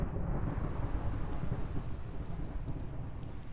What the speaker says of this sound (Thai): ฟ้าผ่าค่ะ ไปผ่าตรงไหนอีกแล้วเนี่ย